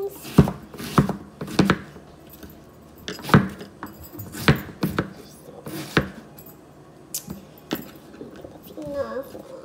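Knife chopping onion on a board, a run of sharp, fairly loud, irregular cuts close by, with brief pauses and a voice speaking near the end.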